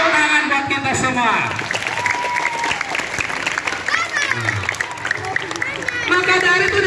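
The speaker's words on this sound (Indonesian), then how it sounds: "Tepuk tangan buat kita semua." Children at a school Isra Miraj gathering applaud in a loud, sustained round of clapping, with voices and crowd chatter mixed in throughout.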